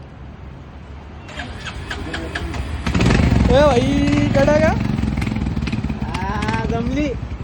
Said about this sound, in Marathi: आवाज दाखव बरं गाडीचा कसा आहे